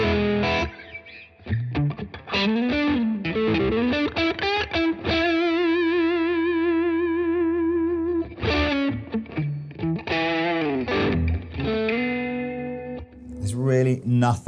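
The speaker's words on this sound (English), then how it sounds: "It's a good distortion pedal." Electric guitar played through a Strymon Riverside overdrive distortion pedal: crunchy distorted chords and sustained lead notes with vibrato, loud and close, broken by short gaps between phrases.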